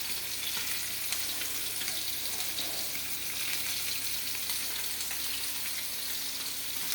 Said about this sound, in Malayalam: വെളിച്ചെണ്ണ തിളച്ചാൽ ഉടനെ അതിൽ കടുകിടുകയാണ്